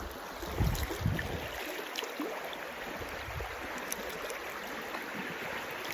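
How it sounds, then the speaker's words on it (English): A river flowing in Central Oregon gives a steady, soft rushing wash of water, distant and even, with a couple of low thumps early on. "it's a river here, and you can tell it's a river because of the way it is."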